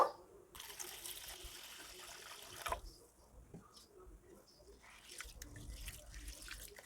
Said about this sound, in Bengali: প্রথমে চালটা খুব ভালো করে ধুয়ে নেব